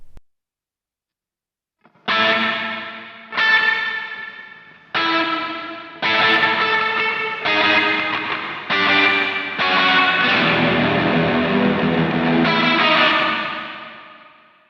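Electric guitar played through an M-Vave MK300 multi-effects unit with reverb effects, a series of strummed chords and phrases ringing out with a lush, sustained wash that builds into a long swelling tail before fading.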